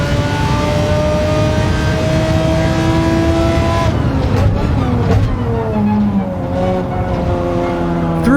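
A race car's engine in Gran Turismo 7 holds a loud, steady drone with rising and falling pitch as it shifts and accelerates through a lap, with a brief tire squeal midway.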